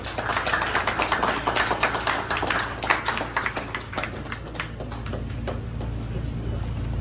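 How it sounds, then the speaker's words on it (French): Audience applause at a NICE PIC graduation ceremony, a sustained wash of many hands clapping at moderate loudness, with a steady low hum underneath and faint voices mixed in throughout. "je vous prie de les applaudir chaudement, s'il vous plaît"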